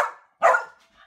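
A dog gives two short barks, the second louder and fuller, with a faint whimpering trail after, close by and with no talk over it.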